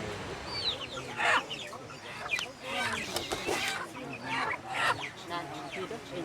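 Chickens clucking nearby at a village gathering in Sumba, Indonesia, with scattered short clucks and squawks mixed with a murmur of people talking in the background.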